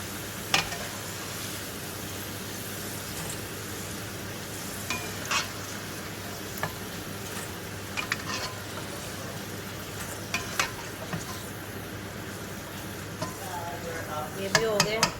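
Chips coated in black pepper, salt and cornflour sizzle in hot frying oil, a steady crackling hiss with occasional clinks of a utensil against the pan.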